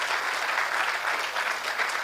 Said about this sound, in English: Give a round of applause to our design squad.